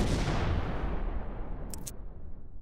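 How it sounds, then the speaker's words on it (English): A missile warhead blast erupts loud and broadband at the start, then its deep roar slowly decays and fades over a couple of seconds. "The explosion was devastating."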